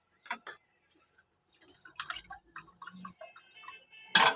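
Liquid drips in scattered, irregular drops as canned tuna drains for lumpia, with soft clinks and faint handling noises between the drips and a louder splash at the end.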